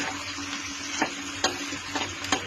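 Onions with a pinch of asafoetida fry in a pan while being stirred, a constant sizzling hiss punctuated by a few quick spatula scrapes and taps.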